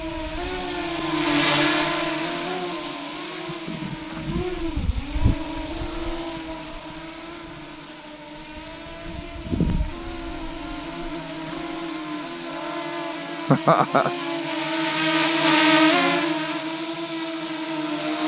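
A small quadcopter drone flies nearby, giving a continuous buzzing whine that rises and falls as it maneuvers, with a few brief thumps partway through.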